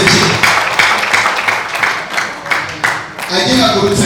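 A church congregation at a pastor's anointing ceremony claps together in a steady, dense patter, with voices mixed in over the applause.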